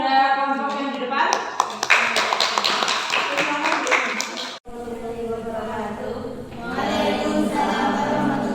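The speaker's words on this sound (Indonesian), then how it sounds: "berikan tepuk tangan kepada kelompok yang di depan." Classroom students clap for a presenting group, with quick, brisk applause that stops halfway through before a voice begins speaking.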